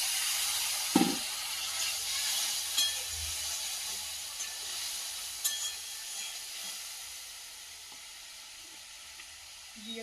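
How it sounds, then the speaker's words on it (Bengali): Spice paste (masala) frying in a pan with salt and a little water, a continuous bright hiss of sizzling with a few soft stirring knocks, close and steady, gradually easing. "লবণ দিয়ে হালকা একটু জল দিয়ে মশলাটা ভেজে নেবো"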